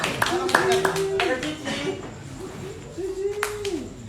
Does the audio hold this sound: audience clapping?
yes